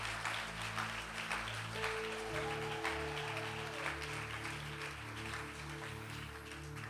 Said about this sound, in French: J'aimerais un tonnerre d'applaudissements pour toute cette équipe.